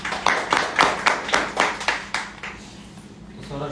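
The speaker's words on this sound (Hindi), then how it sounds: "सर के लिए ताली है, सबके लिए।" Audience applause at a photography workshop certificate distribution: steady, rhythmic group clapping in even bursts that fades out over the last second.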